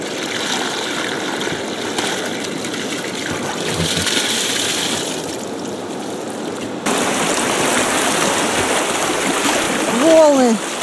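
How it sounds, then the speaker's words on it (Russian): Waves slap and splash against a raft running river rapids in the Verkhoyansk Range, a loud continuous rush of churning water with bursts of spray. "Волны просто хлещут немножко"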